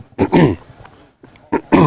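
A few short, harsh coughs close to the mic, two bursts separated by a brief pause, with faint background murmur between them.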